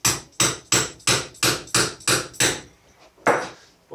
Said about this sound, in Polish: Popukamy, żeby to zjechało do samego końca.